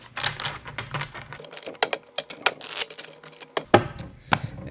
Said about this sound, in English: Aries, let's go ahead and shuffle these cards one good time.